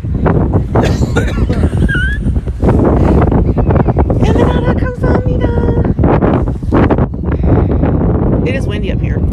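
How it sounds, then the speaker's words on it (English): Strong wind buffets the microphone in loud, roaring gusts high on a mountain in South Korea while people talk through it. "It is windy up here."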